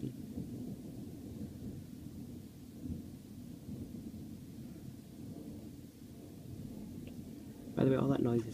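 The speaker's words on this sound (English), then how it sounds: "By the way, all that noise is thunder," Deep, continuous rolling thunder from a severe thunderstorm in the UK rumbles low and steady throughout, with a brief louder crackle near the end.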